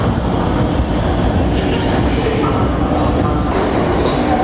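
Train noise at a London station platform, with a loud, steady rail rumble and hiss filling the whole stretch without pause.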